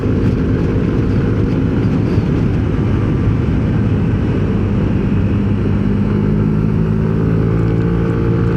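A motor scooter engine, a Yamaha Nmax with a tuned CVT setup, runs steadily throughout, a continuous close droning roar with no pauses and no talking.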